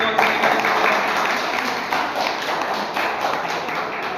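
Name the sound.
audience applause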